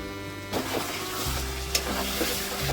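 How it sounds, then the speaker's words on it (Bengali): Spice masala with yogurt sautés in a pan for chicken biryani, giving a soft, low sizzle with faint stirring scrapes and an occasional light knock. "এবারে মশলাটা কষিয়ে নিয়েছি, এবারে দইটা দিচ্ছি।"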